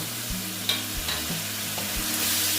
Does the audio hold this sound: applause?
no